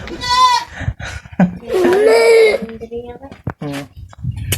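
Goats bleat several times at close range, wavering nasal cries mixed with a person's voice talking nearby, at an aquamarine park.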